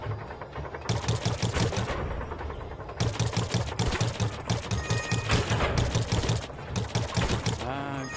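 Rapid bursts of game gunfire from the Max Mustard VR platformer as targets are shot, loud repeated rattling volleys in groups with short gaps, over game music and effects.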